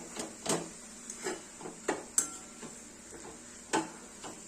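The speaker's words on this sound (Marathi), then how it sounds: "सो मेथी इथे व्यवस्थित परतून घेतलेली आहे" Fenugreek leaves sautéing in a pan, a faint soft sizzle under scattered light stirring clicks and scrapes of a spoon against the pan.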